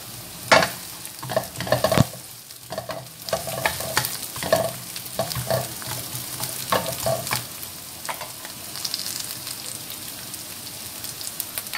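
Onion sautéing in a hot pan with a continuous sizzle and crackle, broken by loud scraping stirs early on and softer stirring strokes after, close up with no voices.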